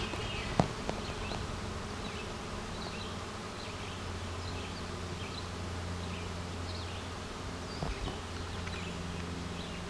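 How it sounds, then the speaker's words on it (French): A dense swarm of honeybees buzzes continuously overhead, a steady droning hum with individual bees passing nearer now and then, fairly faint and distant. "il y a un nuage d'abeilles qui se pousse."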